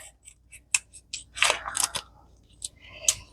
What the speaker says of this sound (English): I'm just going to get my scissors and I'm going to cut it out of the package